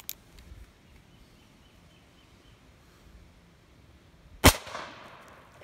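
A single sharp crack from a homemade percussion cap firing in a revolver, loud and sudden against a quiet outdoor background, with a faint earlier snap at the start and a brief fading tail.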